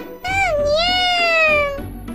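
A cat gives one long, drawn-out meow that bends in pitch. It is close and clear, and quieter background noise comes before and after it.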